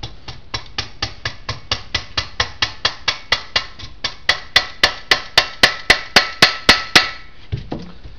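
Steady hammer blows on a Jaguar E-Type brake pedal box, knocking a part off its rubber buffer during a servo rebuild; about twenty sharp metallic strikes in a regular rhythm, growing louder toward the end, close and alone.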